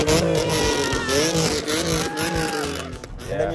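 A 2023 Nissan Z with straight pipes and a trick muffler, its exhaust droning loud and close with rising and falling revs over a few seconds.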